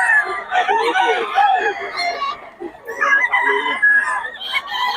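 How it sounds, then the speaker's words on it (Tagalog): A young stag rooster crows and clucks at close range among other fowl, with several overlapping calls through the stretch. "Ano to, stag? Stag lang to mga idol."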